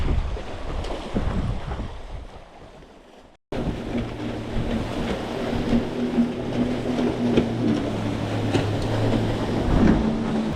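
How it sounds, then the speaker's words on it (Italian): A jet ski motors along near a rocky shoreline, its engine a steady droning hum under wind buffeting the microphone and the wash of waves, holding fairly loud and constant after a brief cut. "La moto d'acqua sotto riva mi mancava."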